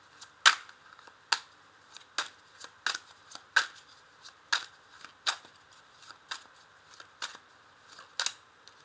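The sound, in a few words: tarot cards being shuffled and laid down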